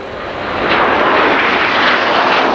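RAF Red Arrows jets fly a display at the Royal International Air Tattoo, a broad steady engine roar that swells after the first half-second and holds loud and continuous throughout.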